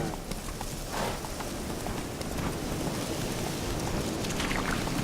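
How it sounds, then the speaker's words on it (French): A horse galloping in The Witcher 3, steady rhythmic hoofbeats on ground for the whole stretch, moderately close, with a faint wind-like rushing underneath. "Au galop, Ablette."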